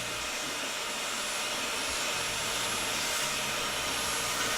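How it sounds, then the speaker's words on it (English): A vacuum cleaner with a nozzle attachment fitted to its end runs steadily, a loud continuous whooshing roar filling the whole stretch without interruption or speech. "Put this part on the end of your vacuum, just like that, and then turn your vacuum on."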